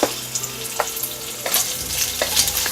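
Lard with a few dashes of salt sizzles and crackles in a pan, a steady close frying hiss broken by sharp pops and occasional stirring clatter.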